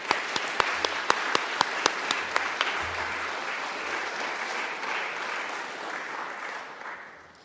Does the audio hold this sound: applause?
yes